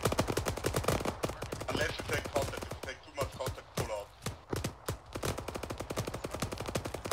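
Gunfire in the military shooter ArmA 3, rapid bursts of sharp automatic shots cracking in quick succession throughout, with short gaps between volleys and a few heavier reports mixed in.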